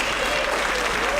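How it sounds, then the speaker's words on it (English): Concert audience clapping for a reader at a high school symphonic band holiday concert, a dense, even wash of applause filling the room without pause. "Everybody give a round of applause."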